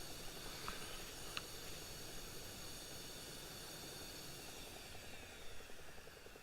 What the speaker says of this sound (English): You want to bring back the fighter jet back to base